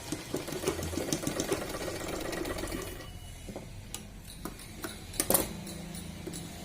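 A sewing machine stitches around a blouse neck, a close, fast mechanical rattle for about three seconds that then slows to scattered ticks and clicks.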